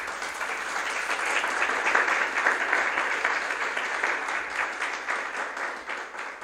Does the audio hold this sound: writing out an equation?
no